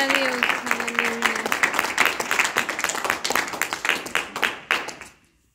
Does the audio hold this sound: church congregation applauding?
yes